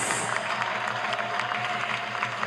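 Sustained applause from an audience at a state budget presentation by a governor, a dense, steady clatter of many hands clapping throughout, fairly loud and even, with a faint voice underneath.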